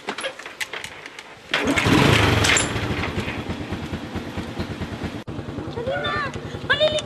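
An engine cranks and catches, then settles into a steady chugging idle close by, with a brief high squeal near the end.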